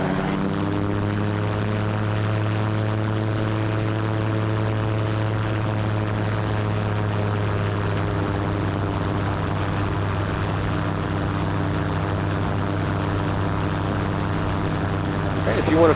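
A seaplane's propeller engine drones steadily in flight, a loud, close, unbroken hum with strong low harmonics that holds level for the whole stretch, with no talk over it.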